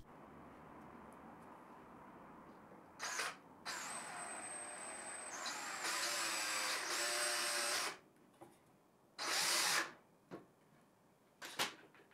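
A power driver sets screws into timber held against a steel corner, in several short whirring bursts of a few seconds each, separated by quiet pauses, heard fairly close with no speech.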